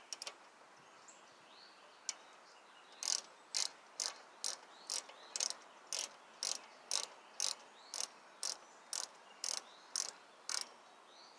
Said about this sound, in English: We'll go ahead and get these snugged on tight.